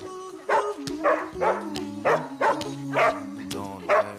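An Austrian dog barking close by in a series of about seven sharp, evenly spaced barks, with brief pauses between them.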